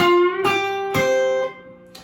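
A few sustained electric guitar notes, one bent upward in pitch partway between a half and whole step, ringing out cleanly with no talking.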